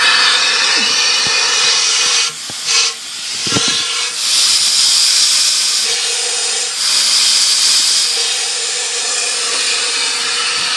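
Compressed air hisses steadily through an overloaded valve on a model steam engine's plumbing, a loud broadband rush that dips briefly a few times before resuming, heard close with no talking.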